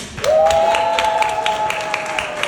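Audience at a primary and infant school transition ceremony applauds steadily, a dense wash of clapping with scattered sharp claps, and a high sustained whistle-like tone running through it.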